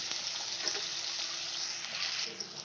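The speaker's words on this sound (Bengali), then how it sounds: "লাউটা আমি ভেজে নেব সুন্দর করে" Bottle gourd frying in a pan over a high gas flame makes a dense, even hiss of hot oil, close and steady throughout, with a couple of faint clicks and no voices.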